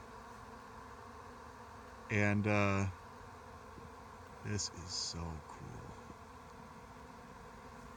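A large honeybee swarm gives off a steady, low buzzing hum in the background, while someone talks over it in short bursts.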